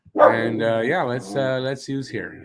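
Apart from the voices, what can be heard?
dog barking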